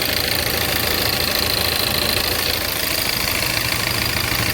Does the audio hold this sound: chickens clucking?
no